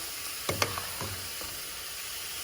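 Fideo noodles fry in a pan in a soft, steady sizzle, quiet and close, with a few faint clinks or knocks breaking through early on.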